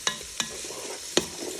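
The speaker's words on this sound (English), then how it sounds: "give it a quick stir as it's starting to sizzle a bit." Onions sizzle softly in olive oil in a Ninja Foodi pressure cooker pot while a utensil scrapes and clacks against it three times, sharp distinct strokes over the quiet frying hiss.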